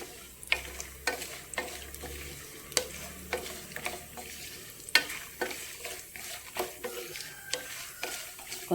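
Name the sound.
peanuts, green chilies and curry leaves frying in pan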